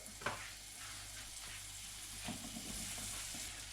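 Butter and oil sizzle steadily in a pan as bread goes in for a burrata and nectarine bruschetta, a constant broadband hiss with a few soft crackles and no talking.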